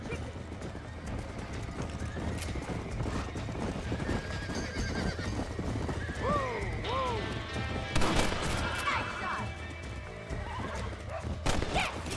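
Horses gallop in the Western video game Red Dead Redemption, with steady clip-clop hoofbeats and a couple of sharp whinnies, plus scattered gunshots in the mix.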